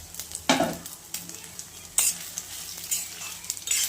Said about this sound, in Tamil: இந்த மாதிரி வணக்கிட்டு நீங்கள் தேங்காய் போடணும்